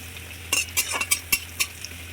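Chopped onion with cumin seeds fries on a tawa for polao, with a low sizzle beneath five or six sharp scraping strokes of a spatula in quick succession.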